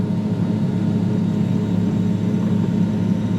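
Twin jet engines of an MD-88 airliner in Flight Simulator X after takeoff, a steady dense roar with a constant tonal hum, loud and unbroken.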